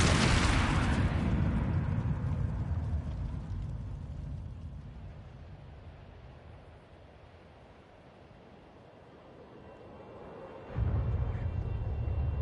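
An explosion in the video game Ghost of Tsushima: a loud, close boom that rolls into a long rumbling decay over several seconds, followed near the end by a renewed low roar.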